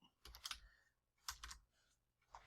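Fingers type on a computer keyboard in two short, quiet bursts of rapid key clicks separated by a brief pause.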